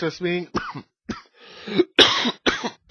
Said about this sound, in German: Ich entschuldige mich, dass ich so husten muss